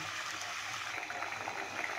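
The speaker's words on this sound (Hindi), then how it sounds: "अब मैंने इसके अंदर पानी थोड़ा सा ऐड कर दिया है" Water is poured into a pot of cooking apple gourd (tinda) and meat curry, making a steady, soft splashing trickle that continues throughout.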